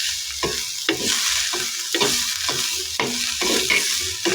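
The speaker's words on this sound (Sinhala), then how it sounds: "දැන් බලන්නකෝ මම නම් ඉතින් කලවම් කරගන්නවා හොඳට." A spoon scrapes and stirs mackerel curry in a pan in steady repeated strokes, roughly twice a second, over a constant bright sizzle of frying, close and fairly loud with no talking.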